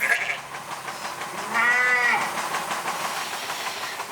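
Sheep bleat at a Basque sheep farm raising ewes for milk, one wavering bleat rising clearly above a steady, noisy background of farm ambience.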